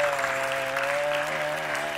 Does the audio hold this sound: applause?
yes